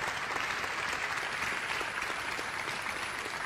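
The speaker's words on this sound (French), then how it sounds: "Bravo, en tout cas, on vous applaudit" An audience at a regional awards event applauds steadily, a dense, even wash of clapping that stays loud for the whole stretch.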